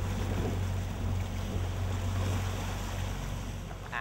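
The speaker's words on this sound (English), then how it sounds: "two new Yamaha 225 horsepower outboard engines" Two Yamaha 225 horsepower outboard engines on a Capelli 28 WA boat drone with a steady low hum beneath rushing water and wind noise, continuous and fairly close.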